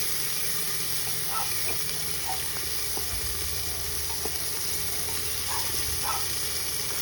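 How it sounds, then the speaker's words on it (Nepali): Tomatoes frying in a pan with ash gourd and chickpeas for a curry, giving a steady, close sizzle with faint stirring clicks throughout and no talking. "एकैछिन फ्राई गर्ने।"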